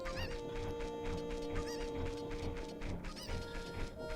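Chickens cluck and squawk in the Ocarina of Time video game, a busy run of short honking calls layered over steady game music and effects.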